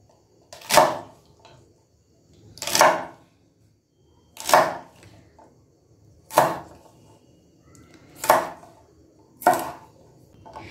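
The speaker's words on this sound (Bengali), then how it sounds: "এবারে পেঁয়াজ কলিগুলোকে কুচি কুচি করব না, একটু বড় বড় রাখবো," A knife chops spring onion stalks into large pieces on a board, six sharp, separate thuds spaced about two seconds apart, close and clear with no talk.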